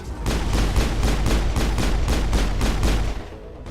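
Rapid, evenly spaced gunshots in Mass Effect, about ten loud close cracks in quick rhythm, stopping just before the end.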